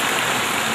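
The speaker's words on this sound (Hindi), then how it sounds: "ये आसमान से भी बारिश हो रही है" Steady rain falls as a dense, even hiss filling the whole moment, loud and close with no break in texture, during a melodramatic Hindi acting scene.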